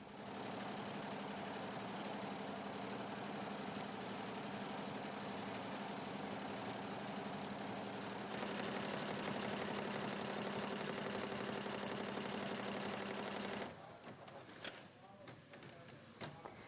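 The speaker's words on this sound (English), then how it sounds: "This 20-head embroidery machine sews logos onto pieces of BCD material." A 20-head embroidery machine sewing logos onto pieces of BCD fabric makes a continuous, busy mechanical whir with a steady pitched hum, shifting tone partway through before dropping off into quieter intermittent clatter near the end.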